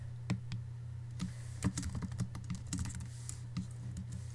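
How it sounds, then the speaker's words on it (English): Irregular keystrokes on a computer keyboard while entering text, close and fairly quiet over a steady low electrical hum, with no talking. "And I'm going to type a new one here."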